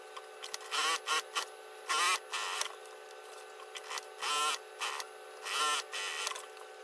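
A sewing machine stitches the sides of a fabric pouch with half-centimetre seams: repeated short bursts of whirring motor and needle clatter, separated by brief pauses, close and steady.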